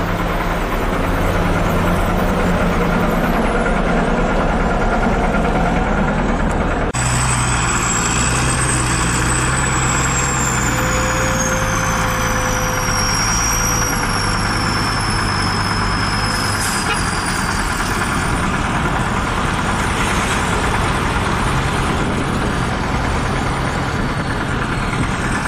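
Tonar dump truck on a steep slope beside a pit, its heavy diesel engine idling steadily and then pulling as it drives, loud and continuous throughout with a rising whine partway through.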